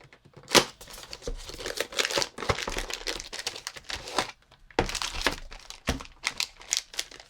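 Crinkly plastic bag packaging a Ninja V sunhood for an Atomos Ninja V+ monitor being torn open and handled, a close, loud run of rustling, crackling and tearing bursts with brief pauses.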